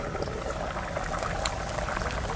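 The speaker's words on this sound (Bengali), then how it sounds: "এবার জোরে জোরে জাল দিয়ে আলুগুলো সিদ্ধ করে নেব ভালো করে।" Potatoes boil hard in a pot over high heat, giving a dense, continuous bubbling rush that is close and steady, with no voices.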